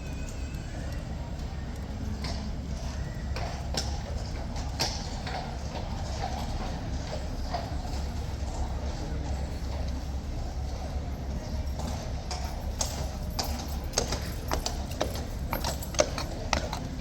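Police horses stand at a mounted sentry box amid a large crowd, their hooves giving irregular clip-clop strikes over a steady crowd murmur, with occasional sharper knocks near the end.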